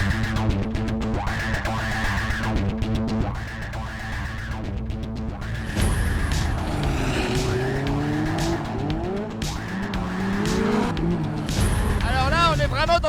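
A Peugeot 205 Turbo 16 Evo rally car's engine revs and roars through gear changes, tires squealing in places, loud and close throughout.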